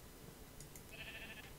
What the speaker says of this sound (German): das Schaf ist versunken im Schlamm